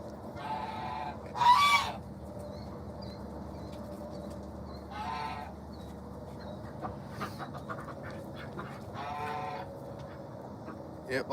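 Backyard geese honking at feeding time, a few loud nasal honks rising over a low ambient bed, with softer bleat-like calls from other farm animals scattered through.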